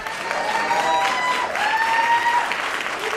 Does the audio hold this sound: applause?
yes